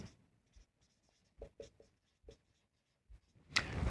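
Pen scratching on paper while accounting entries are written out, heard as short, quiet strokes in small irregular clusters with gaps between them, close and alone, ending in a louder rustle.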